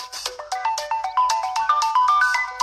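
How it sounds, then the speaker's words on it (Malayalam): Mobile phone ringtone plays a bright, rapid melody of short repeated notes, loud and close, with no voices over it. "ഫോൺ എടുക്ക്."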